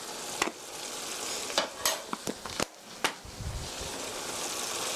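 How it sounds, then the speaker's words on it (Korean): A few soft scrapes and clinks of a utensil stirring beef sauce with Parmesan cheese in a pan, with a quiet steady sizzle underneath and no talking. "살짝 저어주시고요."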